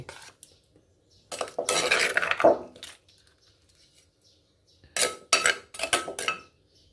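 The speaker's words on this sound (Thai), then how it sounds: "เดี๋ยวตักใส่จานกันเลย" A spoon scrapes and clinks against a bowl and plate while Thai santol salad with pickled rice-field crab is served, giving close bursts of metallic scraping and clinking between quiet pauses.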